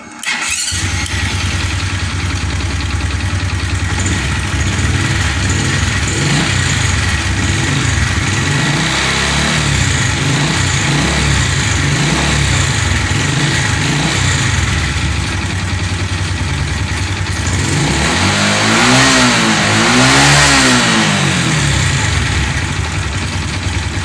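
A fuel-injected Honda motorcycle with a battery that keeps going flat starts up close and loud, idles with a steady throb, then revs hard to full throttle with rising and falling engine pitch.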